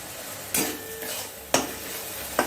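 Chopped tomatoes sizzle in a pan for veg chowmein, with a utensil stirring and scraping three times at steady intervals over the continuous frying hiss.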